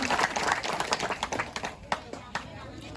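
An audience at a live Balinese comedy show claps in a short ragged burst of hand claps that thins out into a few scattered claps, with a voice speaking over it.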